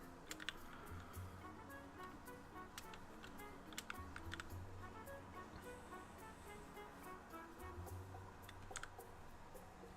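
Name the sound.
typing on a computer keyboard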